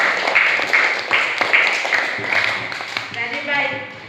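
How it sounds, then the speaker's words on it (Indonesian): Schoolchildren in a religion lesson clap in a rapid, uneven patter of sharp hand claps, moderately loud, with a teacher's voice talking over them. "Iya, tepuk tangan dulu"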